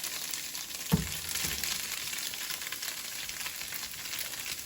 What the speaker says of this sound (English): Okay, so my oil should be pretty hot. I'm just gonna add in the tofu. Ah, yes, that sounds good.